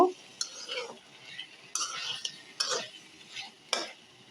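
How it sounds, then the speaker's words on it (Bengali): Vegetables being stirred and sautéed in a pan for a home-cooked lunch, irregular scraping strokes of a utensil against the pan over a low background, several distinct stirs. "এখন একটু ভালো করে নাড়াচাড়া করে কষিয়ে নিব"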